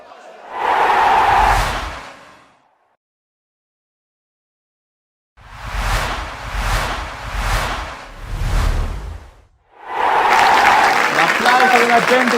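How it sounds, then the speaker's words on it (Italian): Football fans clapping and cheering at a stadium during a Sicilian Eccellenza league match, in loud bursts of crowd applause separated by quiet gaps. "La gente di Cammarata con la birra in mano e la montagna nel cuore per applaudire i propri beniamini"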